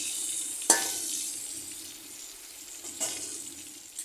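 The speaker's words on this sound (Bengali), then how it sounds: "আর হলুদ দিয়ে ভেজে নিই কাঁকড়াগুলোকে এই পাশ ওপাশ করে উঠে নিচ্ছি দেখুন" Crabs fry in a pan with salt and turmeric, a soft steady sizzle broken by two sharp scraping clinks as they are stirred and turned over, heard close with no talking.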